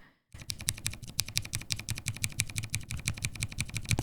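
Fast, steady typing on a mechanical keyboard fitted with tactile brown switches, a close, crisp run of clacking keystrokes in an even rhythm that fills the whole stretch after a brief silent start.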